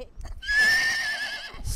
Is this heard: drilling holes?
no